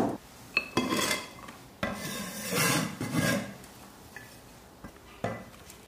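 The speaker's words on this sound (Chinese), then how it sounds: "青红椒切成丝。" A knife shreds green and red peppers on a board with a series of rasping, scraping cuts and sharp taps, irregular and close, with quiet gaps between strokes.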